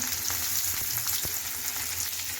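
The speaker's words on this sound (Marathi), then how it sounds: "हिरवी मिरची छान अशी भाजली की त्याच्यामध्ये टाकले कढीपत्ता" Curry leaves crackling in hot oil alongside roasted green chillies: a brief, close, continuous frying sizzle with a few sharp pops, no voices.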